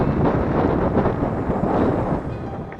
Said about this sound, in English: You can also hear the wind picking up